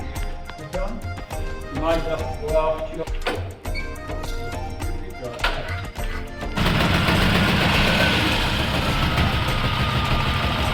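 A heavy 1949 Ransomes tractor engine clatters and pops irregularly, then settles into a loud, steady running roar for the last few seconds, close to the listener.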